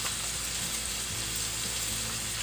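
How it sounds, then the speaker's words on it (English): Onions and garlic sautéing in a pan, giving a steady close sizzle and crackle with light stirring, continuous and even throughout. "Whenever you saute onions and garlic"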